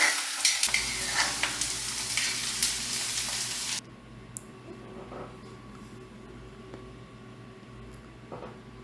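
Onions are stir-fried in a pan for cauliflower masala curry, giving a loud, close sizzle with scraping stirs that cuts off abruptly partway through, leaving faint kitchen room tone and soft clinks.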